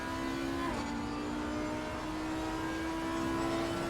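Race car engine in Assetto Corsa Competizione, heard from the cockpit, holds a steady high whine with a quick shift dip early on, loud and continuous.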